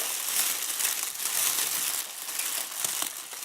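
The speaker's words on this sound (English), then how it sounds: "Just cutting apart that sticky tape there." Continuous crinkling and scraping of packaging tape being cut apart with scissors and pulled apart, close and fairly loud, with small snaps throughout.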